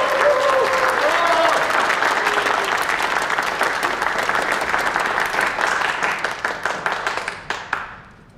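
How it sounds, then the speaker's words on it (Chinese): An audience bursts into dense, sustained applause to welcome an editor-in-chief onto a stage. The clapping stays loud and thick throughout, then thins out and fades over the last second. "让我们用最热烈的掌声欢迎肖红雪主编上台"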